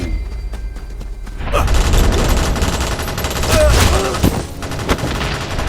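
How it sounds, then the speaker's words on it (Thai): A burst of rapid gunfire erupts after a quieter start inside a crashed airplane wreck, with repeated cracks and booms layered in a chaotic exchange of shots between armed attackers and returning fire. "เสียงปืนดังสนาน"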